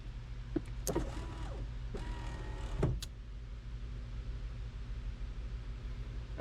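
An electric power window motor in a '55 Chevy wagon whirs in short bursts as the glass moves, a brief clunk as it hits the stop, then steady quiet hum.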